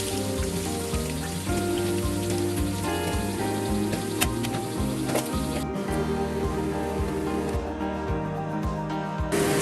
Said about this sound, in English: So we have to deep fry the onion till the color is turning to brown, and keep stirring it.